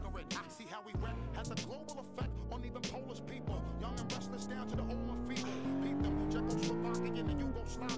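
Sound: Porsche car engine and tyres in video game Live for Speed

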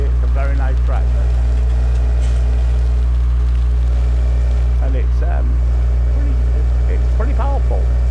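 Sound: tractor engine running in a farming video game

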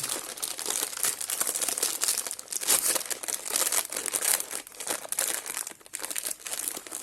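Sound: opening Ülker Halley snack package, wrapper crinkling

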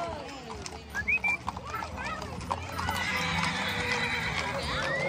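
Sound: horse neighing and hooves

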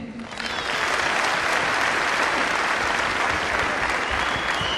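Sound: audience applause

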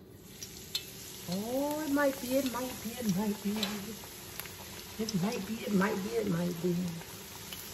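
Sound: fish frying in hot grease in cast iron

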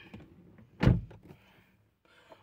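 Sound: car door shutting

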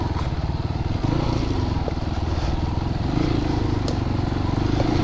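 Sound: Christini AWD 250cc big wheel motorcycle climbing a hill

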